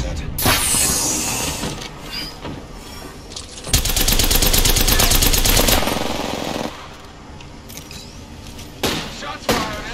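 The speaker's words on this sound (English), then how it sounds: "Shots fired and they're hitting me." Gunfire in Apex Legends as enemy shots hit the player: scattered shots, then a loud sustained burst of rapid fire for about two seconds mid-clip, followed by a few more sporadic cracks.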